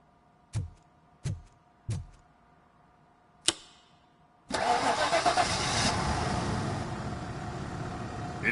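A car engine in the Robocop Rogue City video game, fixed after its disconnected coil is reconnected, cranks in three short bursts with a click, then catches and settles into a loud, steady idle.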